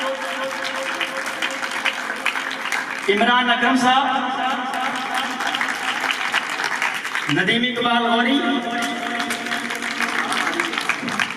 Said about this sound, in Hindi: क्लैपिंग करें जोर से।